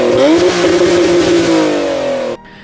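A first-generation Acura NSX engine revs loud and close, a rising mechanical howl that holds and slowly settles before cutting off abruptly near the end.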